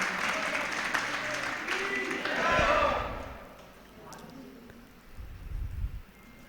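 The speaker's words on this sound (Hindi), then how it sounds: "एक बार पाटौदी मंदिर वालों के लिए जोरदार तालियां बजाइए" An audience applauds a temple group from Pataudi during a religious discourse, a burst of clapping that swells in the first few seconds and then fades, with speech around it.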